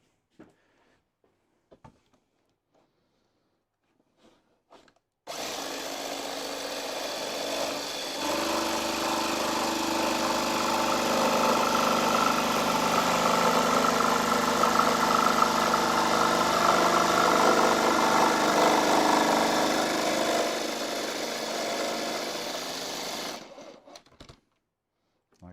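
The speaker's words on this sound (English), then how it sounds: "Now I'm going to cut with the jigsaw." A jigsaw cuts wood for a tongue drum, starting abruptly after a few quiet seconds and buzzing loud and steady for about eighteen seconds before stopping, alone with no talking over it.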